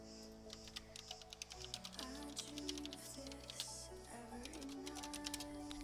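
Quick bursts of keystrokes clatter on a computer keyboard during a World of Warcraft session, light close clicks in uneven runs over a steady background of game music.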